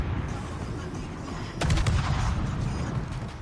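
Naval 127mm guns fire in a World of Warships battle, with a sudden loud burst of shots at the start followed by a rumbling roll of further gunfire over a steady, noisy background.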